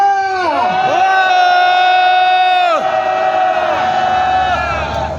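A rally crowd at a candlelight protest in South Korea raises a loud, sustained shout in unison, with the massed voices sliding down in pitch at several points.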